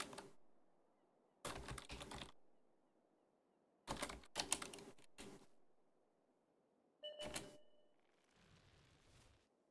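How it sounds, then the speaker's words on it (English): Typing on a computer keyboard during a World of Tanks match, short bursts of quiet clicking separated by pauses, faint and close. "Thought I'd let them know via typing."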